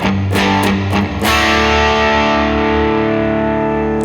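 Distorted electric guitar plays a riff through an effects unit, opening with a few choppy strummed hits and then letting thick sustained chords ring out loud and alone.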